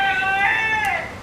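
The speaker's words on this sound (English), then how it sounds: "If you guys hear chickens randomly in the background" A single drawn-out call from a chicken, harmonic and slightly wavering, close by, fading off at the end.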